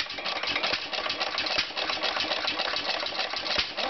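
A 1938 Stover Model K 2 HP hit-and-miss engine running on its own, giving a steady, close mechanical chatter with regular rapid beats and firing thumps throughout.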